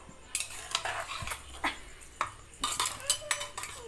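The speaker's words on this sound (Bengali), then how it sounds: "কড়াইটা মেজে নেব" Scrubbing out a wok (kadai) in a home kitchen: repeated short scraping and clattering strokes of metal cookware, fairly close, in an uneven rhythm with no talk.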